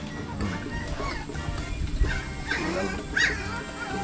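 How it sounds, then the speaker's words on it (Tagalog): A dog barks and whimpers nearby in short, uneven bursts, with a steady hum underneath and some background noise, recorded outdoors while someone sows seeds in a tray. "Maingay na naman yung anak ni Diwata"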